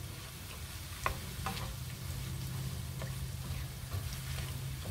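Taco soup ingredients with pepper stirred in a pot in a cargo trailer camp kitchen, a steady simmering sizzle with a few sharp spoon clinks against the pot, close and continuous.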